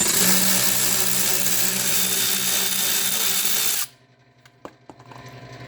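A power tool whirs continuously for about four seconds as it undoes Torx screws holding an Audi B5 S4 fender liner. It then stops, and a few light clicks and clatters of handling follow.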